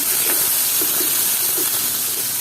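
Garlic paste hits hot oil with a loud, dense hiss that fills the short moment evenly, with faint bubbling pops underneath.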